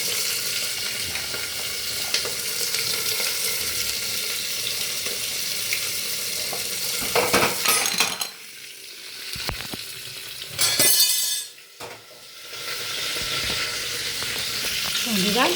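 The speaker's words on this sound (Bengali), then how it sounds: "এবার আমি সবজিগুলো একটু ফ্রাই করে নেব। এর মধ্যে বিনস, গাজর, এটা আমি একসাথেই দিয়ে দিলাম।" Beans and carrots frying together in a pan with whole spices for vegetable pulao, a loud steady close sizzle that briefly gives way to spoon clatter and stirring before the hiss returns.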